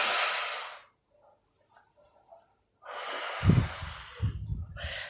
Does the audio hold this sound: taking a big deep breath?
yes